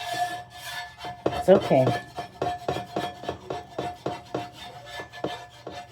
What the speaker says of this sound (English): Just scraping the excess sausage bits off.